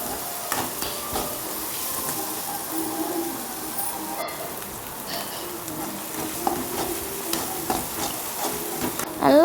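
Onions sizzle and fry over a high flame for a mutton cutlet, with steady close hissing and intermittent scraping of a spoon stirring the pan throughout.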